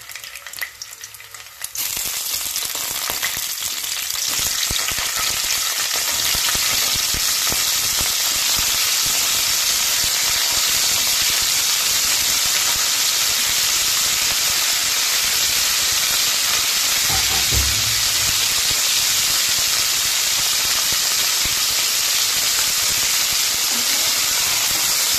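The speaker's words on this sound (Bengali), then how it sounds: "তেলটা গরম হয়ে গেছে, আমি ফুলকপিগুলোকে দিয়ে দেব।" Cauliflower pieces fry in hot oil for a Bengali vegetarian roast, a steady loud sizzle and hiss that bursts up after a brief quiet start and holds unbroken to the end, with no talking.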